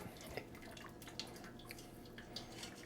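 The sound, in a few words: water draining from pasta through a colander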